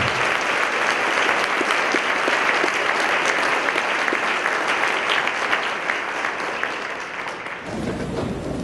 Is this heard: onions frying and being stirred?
no